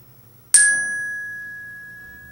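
A single orchestra bell bar struck at its center with a piston stroke rings out as one bright, clear metallic tone that sustains and slowly decays, alone and close.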